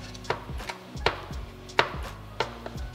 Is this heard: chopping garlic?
yes